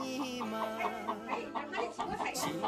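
A hen clucks in a rural pig pen, right beside small local pigs in an Enshi Tujia farming village. Repeated short, close clucks come in a steady rhythm, with a voice briefly audible underneath.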